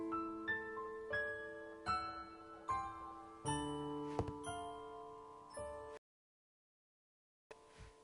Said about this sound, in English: An old locomotive bell.